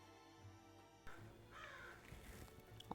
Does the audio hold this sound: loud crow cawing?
yes